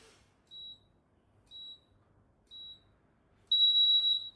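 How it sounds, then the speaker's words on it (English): A timer sounds three short, evenly spaced high beeps about a second apart, then one longer, louder tone, clear and alone in a quiet room. "I'm going to try and get to the timer before it peeps."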